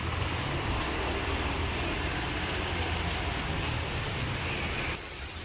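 Heavy rain pouring down in Benidorm during a thunderstorm, a dense steady roar of downpour drumming on surfaces, loud and continuous throughout, easing slightly in the final half second.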